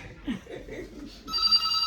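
A phone rings in a medical shop, with a steady electronic ringtone starting partway through after a short stretch of quiet murmuring and a light laugh.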